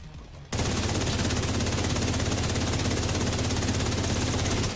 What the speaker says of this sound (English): There's too much fire. I'm just shooting at random.